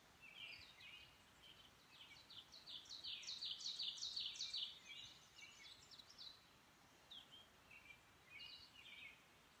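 Several birds chirp and call around a forest campsite in a state forest, a busy cluster of bright tweets in the middle that thins to scattered calls, moderately distant over a quiet background.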